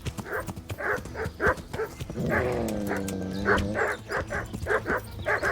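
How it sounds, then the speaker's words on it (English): Dogs in the medieval game Kingdom Come: Deliverance bark rapidly and repeatedly, close and loud, with a longer whining yelp in the middle and faint hoof clatter underneath. "Now we got dogs on us."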